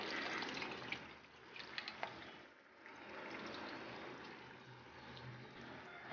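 Tamarind water is poured into a simmering Kerala-style fish head curry, a faint, close, continuous liquid pouring and splashing with some soft bubbling.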